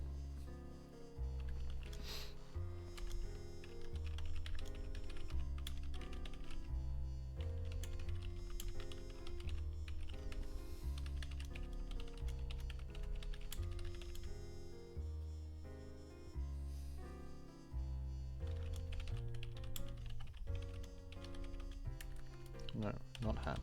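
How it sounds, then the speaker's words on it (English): Computer keyboard typing, faint irregular clicks sitting under a steady bed of quiet music, with some low voice faintly present at times. "Typing so hard."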